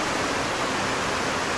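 A waterfall at the lower falls, a constant broadband roar of falling water, loud and steady with no other sounds.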